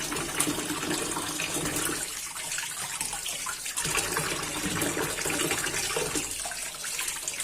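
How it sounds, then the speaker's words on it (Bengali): Hilsa fish pieces are washed under a running tap, producing a loud, continuous splashing gush of water close by. "ইলিশ মাছটা কাটা কুটা হয়ে গেছে, এখন পরিষ্কার করে ধুয়ে নিচ্ছি।"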